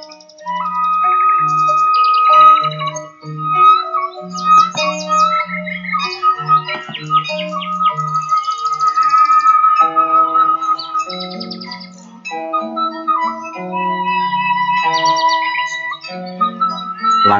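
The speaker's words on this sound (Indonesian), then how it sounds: "melihat burung berkicau di sore hari" Birds chirping and calling on an afternoon by a clear river, layered tweets and whistled notes running steadily throughout with no one speaking.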